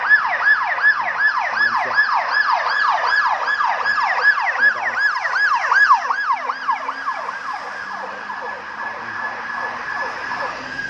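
An ambulance siren at a pedestrian crossing in Auckland yelps in rapid rising-falling cycles, loud at first and slowly fading as the vehicle moves past and away.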